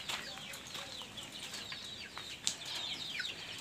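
Free-range chickens on a small Filipino farm that also keeps goats, giving faint, scattered clucks and chirps with a brief wing flutter, heard at a distance against outdoor background noise.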